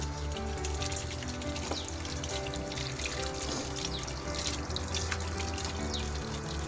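Freshly dug herb roots rinsed under a running tap, with a steady, continuous stream of water splashing and trickling close by throughout and no talking.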